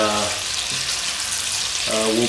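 Chicken wings for Cantonese salt and pepper wings deep-fry in hot oil and are stirred around, giving a loud, dense, continuous bubbling sizzle, with a voice talking briefly at the start and end.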